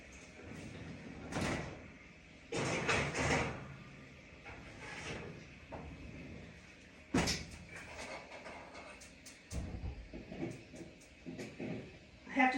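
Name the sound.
putting tomato basil squares crust into the oven, oven door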